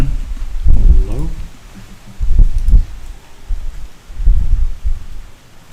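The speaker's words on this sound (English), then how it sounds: "it's getting a bit windy" Wind gusts past an open door, coming in three low, rumbling surges that swell and fade, fairly loud and close with no voices over them.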